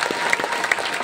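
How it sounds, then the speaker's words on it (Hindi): Brief burst of clapping from a gathered crowd at a religious discourse, honoring pilgrims who walked for nine days, close and busy with irregular claps and a few faint chirps mixed in. "एक बार सबको ताली बजाओ जो 9 दिन पैदल चला।"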